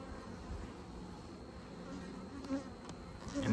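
A dense, steady buzzing of many honey bees in an open hive close by, a low continuous drone with no talking.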